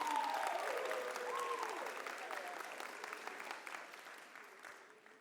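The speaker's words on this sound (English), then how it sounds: "Thank you for applauding them for the remarkable contribution to our event today." A convocation crowd at Bowie State University applauds warmly, the clapping strongest at first and then slowly thinning over about five seconds, heard at a moderate distance with a faint voice briefly over it.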